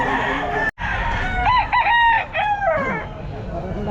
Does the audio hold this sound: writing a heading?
no